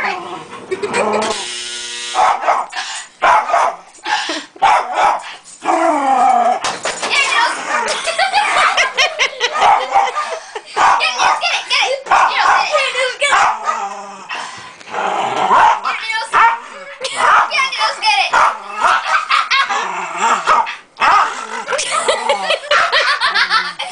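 A dog barks and growls excitedly at a running clothes dryer over its steady mechanical rumble, with people talking and laughing throughout.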